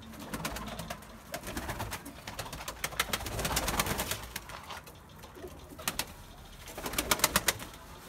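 Big-headed Turkish play pigeons coo in a coop, soft repeated throaty calls at close range, with occasional flutter and bursts of several birds calling together.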